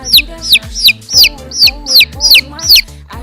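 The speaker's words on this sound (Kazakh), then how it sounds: "Балапан." A chick peeps in a steady series of high, sharp chirps, about seven in quick succession, loud and close.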